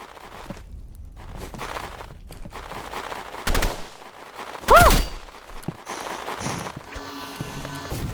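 Burst rifle firing in the Rivals video game: a few short, sharp bursts of gunfire amid game ambience, one louder burst standing out, with no voices.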